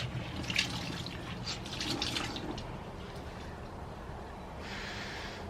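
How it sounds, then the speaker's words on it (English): Wet clothing is wrung out on the Pacific Crest Trail, with a steady, soft splashing and trickling of water running off the fabric, close and continuous. "I'm just wringing the bulk of the water out."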